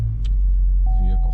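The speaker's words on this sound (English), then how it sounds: "The vehicle starts." A Chevy Equinox from the 2010–2017 generation starts up, a close low engine rumble with a brief chime and tonal whine on top, while a person talks over it.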